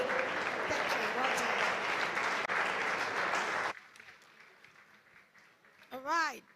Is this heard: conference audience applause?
yes